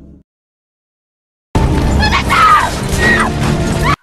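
A sudden loud crash of a car exploding bursts in after a second and a half of silence, followed by sustained roaring, crackling fire with a high cry cutting through, in a Japanese film.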